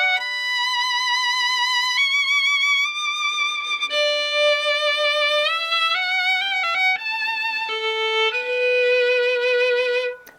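Solo violin playing Massenet's Thaïs Meditation with long slurred bowing, a clear, sustained melodic line of connected notes and smooth shifts, close and alone for about ten seconds.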